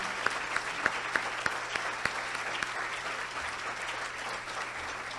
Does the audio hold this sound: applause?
yes